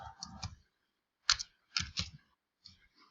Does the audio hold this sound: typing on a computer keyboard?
yes